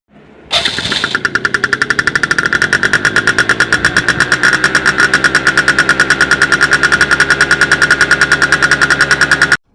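A vehicle engine fires up and runs loudly with a rapid, steady, hammering pulse that holds for several seconds before cutting off abruptly.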